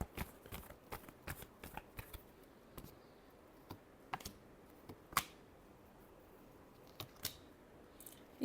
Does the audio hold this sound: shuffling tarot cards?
yes